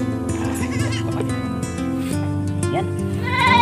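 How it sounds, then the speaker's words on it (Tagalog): A newborn baby goat, the fifth kid born in a goat shed, bleats loudly and close up in several wavering calls, while a person speaks a single brief word. "Nandito na yung pangalimang maliit na kambing."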